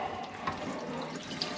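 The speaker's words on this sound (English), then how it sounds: "We're just going to give it a little spritz." Water sprayed from a spray bottle onto an emergency lightbar lens while wet sanding, a soft steady hiss of mist lasting the whole moment with a couple of faint brighter spurts.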